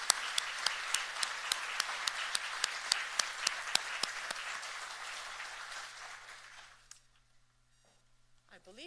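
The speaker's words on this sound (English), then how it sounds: "let's have a huge round of applause for all of you who are here today." Audience applause at a staff awards ceremony, with dense clapping and several sharp louder claps for about seven seconds before it dies away into near silence.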